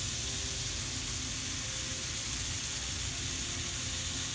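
Sheek kebab fries on low heat in a pan, giving off a steady, dense sizzle and crackle that stays constant and fairly close, with no talking.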